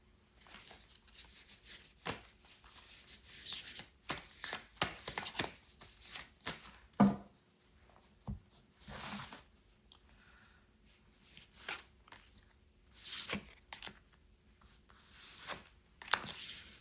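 Tarot cards shuffled and drawn during a reading, giving soft papery riffles, slides and taps in irregular bursts, fairly close and quiet, with no talking.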